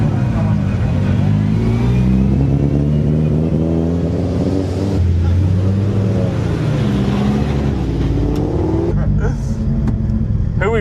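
A TRP-built Mitsubishi Evo 8 MR race car with about 750 horsepower runs on a track, its engine droning loud and close with rising and falling revs and a steady rumble, while people talk over it.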